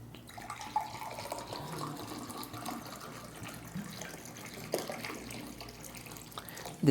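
Water pours or runs in a steady, low splashing stream for several seconds. It is fairly quiet and continuous, with a few louder splashes and no talking.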